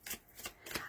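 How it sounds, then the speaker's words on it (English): Tarot cards are shuffled by hand in three quick, close, papery bursts of riffling, each lasting a fraction of a second. "Let's keep shuffling."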